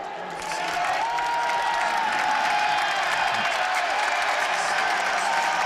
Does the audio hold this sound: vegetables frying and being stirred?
no